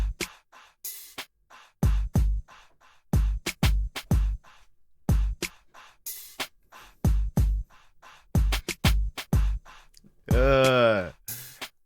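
A sparse, punchy R&B drum beat made in FL Studio with deep kicks and snappy hits, with short rhythmic breaths woven between them and a brief vocal swoop near the end.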